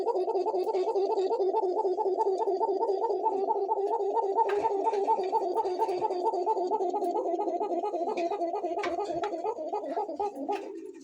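Several pairs of Basiraj koka pigeons coo together, a close, steady stream of throaty, rolling calls layered over one another, with faint background clatter and no talking.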